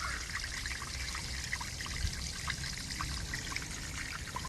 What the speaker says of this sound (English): So you can see the water is already draining out of this very quickly